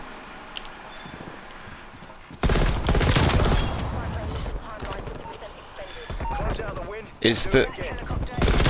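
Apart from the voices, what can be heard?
M16 rifle gunfire in video game Black Ops Cold War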